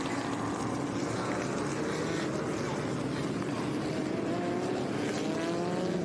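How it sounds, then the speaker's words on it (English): Early-1960s sports racing cars in the Jim Hall USRRC Cup at WeatherTech Raceway Laguna Seca roar continuously at full throttle, a loud dense engine drone with rising pitch as they accelerate, close by and unbroken. "These sports racers, really the cutting edge at the time in the early 60s"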